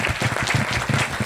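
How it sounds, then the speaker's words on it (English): An audience at a student seminar applauds the students who spoke, loud and close, with a fast, uneven patter of many hands clapping throughout. "Can we have an applaud for your friends?"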